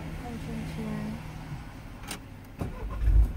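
A Citroen C4 Picasso car engine starts with a push-button ignition, a brief crank late in the clip settling into a low idle, after quiet talk in the car.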